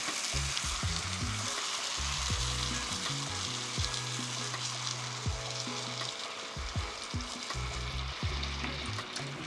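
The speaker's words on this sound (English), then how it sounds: "We'll let that sizzle there for a while" Maple syrup sizzles and crackles in a hot pan, a steady close frying hiss with occasional stirring and faint tonal music underneath.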